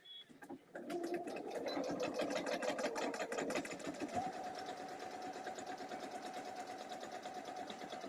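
A home sewing machine runs steadily at a fast even rhythm after a brief start, fairly quiet and close, with faint background music and no talk.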